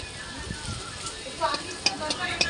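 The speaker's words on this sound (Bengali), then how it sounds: "আজকে আমি এভাবেই শাকটা ভাজা করব" Leafy greens fry in mustard oil with a steady sizzle while being stirred, giving a few scraping clicks near the end. Faint voices sit in the background.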